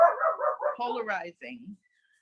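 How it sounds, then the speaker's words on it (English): Two household dogs bark in a quick run of yaps and whimpers close by, the sounds breaking off into silence after under two seconds. "we have two dogs"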